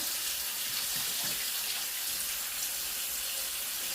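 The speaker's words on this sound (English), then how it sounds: "I'm just going to start a sink of cold water and get that plugged." Cold tap water runs steadily into a plugged kitchen sink, a continuous close hiss and splash that stays even throughout with no talking.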